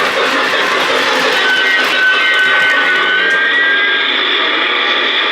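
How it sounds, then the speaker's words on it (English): A loud, sustained metallic squeal of a Lionel PRR K4 4-6-2 model train's brake sound effect over a steady hissing rumble, holding for several seconds before easing slightly. "So yeah, you get that awesome brake sound as well."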